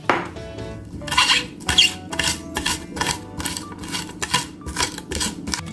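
Garlic cloves being peeled and crushed by hand in a home kitchen, a run of irregular dry cracks, taps and scraping knocks close up, with some clatter of utensils in the background.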